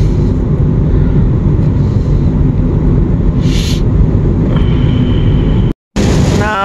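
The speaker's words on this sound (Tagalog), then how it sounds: "Napakalakas ng ulan." Very heavy rain pounds on a car in a loud, continuous dense roar that holds steady throughout, broken by a brief cut near the end.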